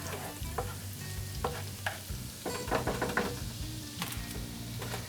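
Ten chopped fresh garlic cloves fry in a pan for Hawaiian garlic shrimp, giving a soft continuous sizzle with intermittent scraping and clinking stirs, fairly quiet and close, with no voices.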